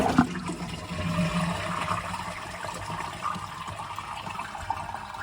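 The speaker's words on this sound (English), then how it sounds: "push it to release the water out this cistern now" A toilet flushes with a steady rush of water that runs the whole time, close and fairly quiet, with no talking.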